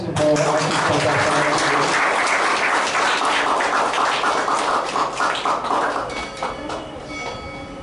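Applause fills a hall at a Don Bosco book release in Agartala, dense clapping under background voices and music, loud at first and gradually thinning to scattered claps by the end.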